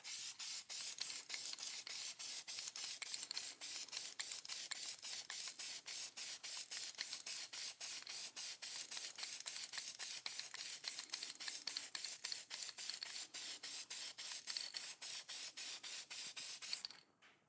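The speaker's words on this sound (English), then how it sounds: "That's how I'm gonna spray the wheels." Steady aerosol spraying of HyperDip gloss coating onto wheels hisses continuously in short overlapping bursts, close and fairly loud, with no voices, ending abruptly at the close.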